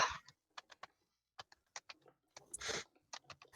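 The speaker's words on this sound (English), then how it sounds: "Intense typing noises." Quick, intense typing on a computer keyboard: faint, sharp key clicks in uneven bursts and short pauses, close and quiet.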